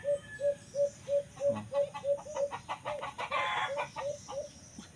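A rooster, an Alimokon breed, crows in a long, repeated run of sharp calls with clucking mixed in, close and loud, against faint background noise, in Silang, Cavite.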